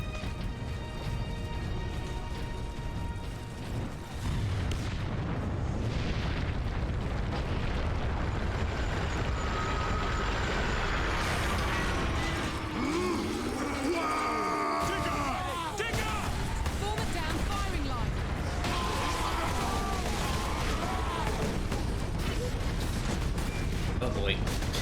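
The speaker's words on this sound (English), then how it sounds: "It's just wall-to-wall artillery." Artillery fire in the Warhammer 40,000: Space Marine video game, a dense, continuous barrage of booming blasts and crashing impacts filling the whole stretch, with battle noise layered throughout.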